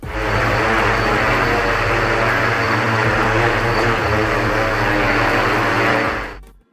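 A homemade backyard-built aircraft with four propellers, cut down from sixteen, makes a loud, close, continuous propeller roar with a dense buzzing drone that holds steady and then cuts off abruptly at the end, with no voices.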